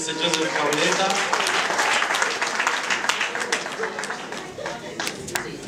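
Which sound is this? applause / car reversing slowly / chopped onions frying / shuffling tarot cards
applause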